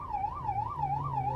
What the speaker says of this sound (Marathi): दादर मार्केटमध्ये सायरन लावून रुग्णवाहिका फिरवली.